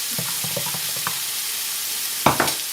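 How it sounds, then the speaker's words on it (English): Beef stock and mint sauce are mixed with a spoon, giving a series of light clinks and scrapes, then a sharper pair of knocks near the end over a faint background hiss. No one speaks. "Give that a good mix."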